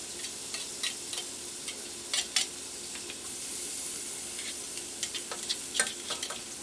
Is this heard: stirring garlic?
yes